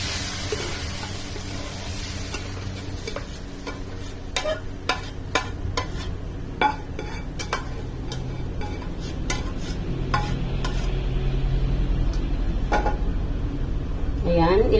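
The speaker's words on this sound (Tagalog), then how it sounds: "pwede na natin ilagay yung ating munggo" Mung beans go into a sizzling pan with dried fish and shrimp and are stirred, giving a steady frying hiss punctuated by sharp utensil clicks and scrapes, while a person talks throughout.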